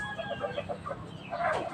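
Rhode Island Red chickens cluck in a short run of soft, rhythmic notes, ending in a louder squawk. The sound is faint and nearby.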